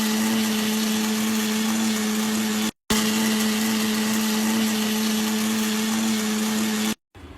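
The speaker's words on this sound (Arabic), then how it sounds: "نخلطهم مظبوط في الخلاط" A blender whirs loudly at a steady high pitch mixing orange cake batter with eggs and vanilla, cutting off briefly twice before starting up again, with no voices.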